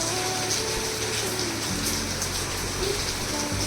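Steady rain falling outside an open window, a continuous hiss of drops on surfaces with a low hum beneath, no voices over it.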